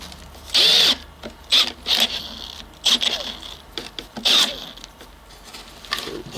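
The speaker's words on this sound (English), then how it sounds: "This is a lot of work out of a drill." A Makita XPH07 cordless drill boring with a 1-inch auger bit under heavy load, its battery running hot, whirs in short, loud, stop-start bursts separated by quieter pauses.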